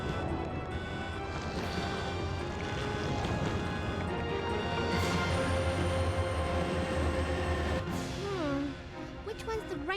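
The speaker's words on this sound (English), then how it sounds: "We have to stop the train, right?" A moving train rumbles and clatters in Resident Evil 2 (1998), with a loud steady mechanical roar, tonal whines and a brief squeal near the end, under voices speaking.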